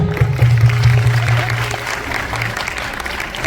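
Audience clapping for performers at a Narali Purnima seaside show in Vashi, a dense steady patter with a low sustained tone under it in the first half, easing slightly toward the end.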